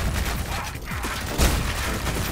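Gunfire in the video game Ion Fury: a dense, continuous barrage of loud shots and booming impacts crowding the whole clip, with a sharper blast near the middle.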